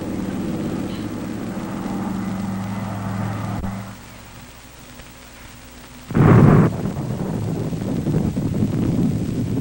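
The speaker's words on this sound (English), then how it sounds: "Now, this is an enemy bomber." An enemy bomber aircraft drones past in a 1950s radar defense film, a low rumbling engine roar that drops away, then surges back with a loud burst and stays heavy and continuous, with no voice over it.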